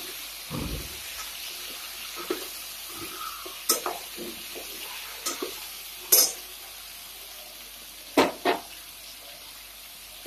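Drumstick (moringa) vegetable frying in a pan with salt, a soft continuous sizzle broken by scattered stirring scrapes and clinks of a utensil, close and fairly quiet, with no talking.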